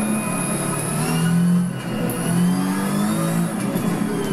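A Porsche 917K race car engine in Assetto Corsa holds a loud, continuous high-revving drone close up, with pitch dipping and climbing as it shifts and accelerates, alone without talk.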